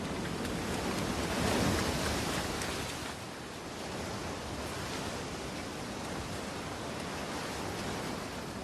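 Side wind blowing over the open sea, a steady broad roar of wind and surf, loud and continuous, easing slightly partway through.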